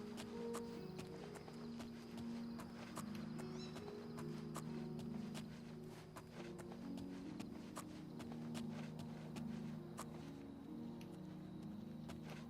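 Steady hoof clip-clops of a horse walking in the video game Oblivion Remastered, with a low droning background hum, fairly quiet and continuous.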